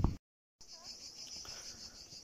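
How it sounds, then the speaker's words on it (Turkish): Crickets chirp in a forest at Valla Canyon, Pınarbaşı, Kastamonu, making a steady, high, continuous trill at moderate distance after a brief moment of silence. "Cırcır böcekleri bir yandan."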